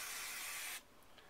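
Cleaner sprayed onto a pistol spring from a Jimenez Arms JA Nine, a steady close hiss lasting under a second before cutting off, leaving faint room noise.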